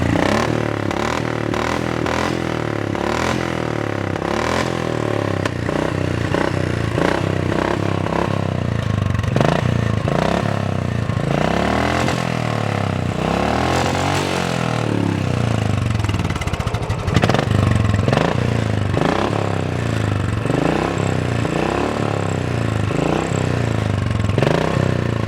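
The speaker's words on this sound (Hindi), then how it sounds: "ये रॉयल एनफील्ड का ओरिजिनल सिलेंसर है." Royal Enfield motorcycle running on its original silencer, a steady loud thumping exhaust note with uneven pulses and occasional revs, alone without talk throughout.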